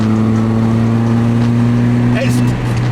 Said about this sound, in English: It's got a fart rattle can eBay special exhaust.